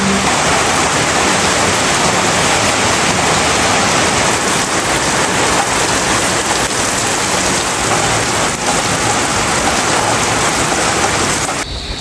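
Heavy rain pours down in a dense, steady roar with no letup, loud and close throughout.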